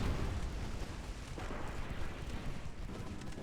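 Naval guns fire in a warship battle in the video game Ultimate Admiral Dreadnoughts, a dense rumbling barrage of booms that blur into a continuous roar.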